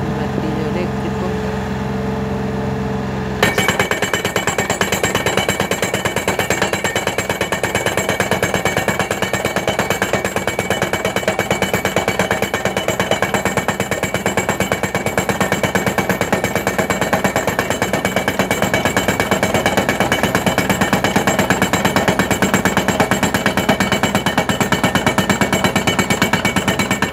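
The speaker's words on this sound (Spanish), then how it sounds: "Un martillo eléctrico." An electric demolition hammer pounds continuously at close range at a solar plant site, a loud, rapid, steady rattling that runs on without pause after a short quieter opening.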